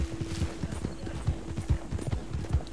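Horse hooves clip-clop in a steady, fairly loud rhythm while riding in the Western game Red Dead Online, with a faint steady tone beneath and occasional light speech-like sounds.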